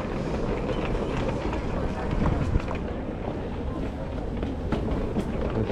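An elevated MRT train in Taiwan runs past with a steady rumbling roar and rattle, loud and close, mixed with wind buffeting throughout.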